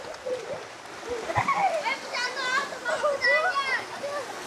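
Kawayanan Falls in Amadeo, Cavite, splashes with a steady broadband rush of water, while children's voices and talk ride over it throughout.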